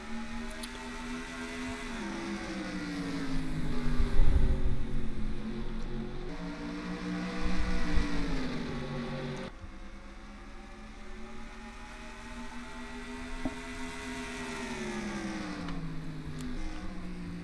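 Race cars accelerating off the green flag at New Hampshire's Magic Mile in a racing video game, droning engine tones rising and falling together in pitch, louder bursts early then a steadier pack hum, no talk.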